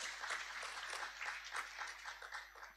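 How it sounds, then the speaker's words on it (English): A faint, distant round of applause for teachers at a boys' secondary school graduation ceremony in Grenada, with clapping that swells and ebbs through a hall. "a round of applause."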